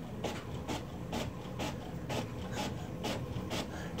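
A home printer runs steadily with a rhythmic, regularly repeating swish-and-rasp of the print head passing back and forth, close and moderately loud, with no talking.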